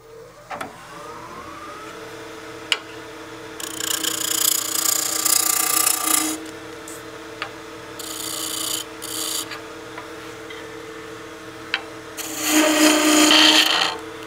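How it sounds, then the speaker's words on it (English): A wood lathe turns a cigar case blank mounted between bushings: a steady motor hum runs throughout, broken by three loud stretches of rough rasping cutting, the longest early on. "that's ready to mount between our bushings and turn"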